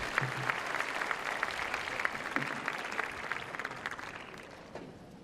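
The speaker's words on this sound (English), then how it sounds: "please have a round of applause for Casey Dellacqua." Applause from a tennis crowd at the Hobart International arena claps steadily, fairly distant and soft, then thins and fades toward the end.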